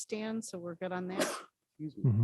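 A sneeze during a school district board committee meeting, a brief burst amid ongoing conversation, with several people speaking around it.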